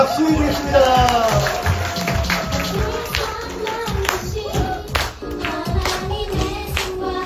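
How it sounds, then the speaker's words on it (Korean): A church congregation claps along during a Christmas worship service, a dense steady patter of many hands under congregational singing and music, continuous and fairly loud throughout. "네, 박수 해주겠습니다."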